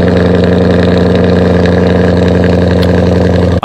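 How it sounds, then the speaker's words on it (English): Loud car with an aftermarket exhaust idling, a steady deep rumbling drone held close and loud throughout, cutting off abruptly at the end. "But definitely a loud car."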